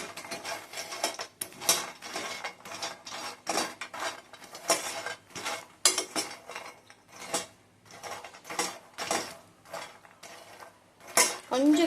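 Makhana (fox nuts) dry roasting in a pan, a series of sharp, irregular clattering rattles and scrapes as the puffed seeds are tossed and stirred against the metal, with brief quiet gaps between bursts.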